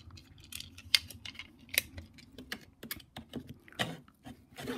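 Knife cutting folded paper for Traveler's Notebook inserts on a cutting mat, heard as a series of short, crisp slicing and tapping sounds at irregular intervals, close and fairly quiet.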